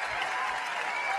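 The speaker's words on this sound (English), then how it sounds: "Please give Christina a round of applause as she comes up on stage" A live magic show audience claps for a volunteer walking up on stage, a dense burst of applause from a crowd filling the short moment.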